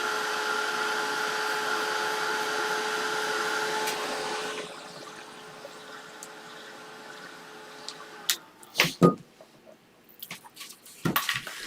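A hair dryer blows on wet paint for about four seconds with a steady, loud whine, then cuts off, followed by quieter room sound and a few sharp knocks and clatters.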